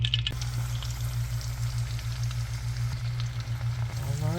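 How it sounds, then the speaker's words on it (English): Sweet potatoes fry in leftover burger grease in a pan, a steady, close sizzle with a low hum underneath that holds evenly throughout, with no talking. "so they are going in the pan. Already have my grease rolling"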